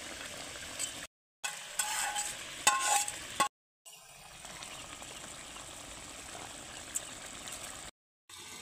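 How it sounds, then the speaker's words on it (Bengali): Tengra fish slide into a pot of simmering curry gravy, a soft sizzle and bubbling stir with light scraping, loud in bursts then settling into a steady low simmer, broken by brief silent gaps. "তো এখন আমি মাছগুলো ছেড়ে দেব।"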